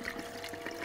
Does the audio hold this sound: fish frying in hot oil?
no